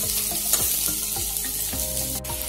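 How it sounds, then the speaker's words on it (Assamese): Potatoes fry in a pan for a jute-leaf stir-fry, giving a dense, continuous close sizzle with repeated scraping strokes of a spatula at an even rhythm. "সেইকাৰণে মই আলুটো ভাজি লৈছোঁ"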